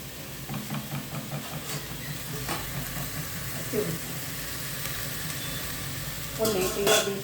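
Curry leaves dropped into a hot tempering for pappu charu crackle and sizzle in oil, with scraping stirs and a sharper burst of spluttering toward the end.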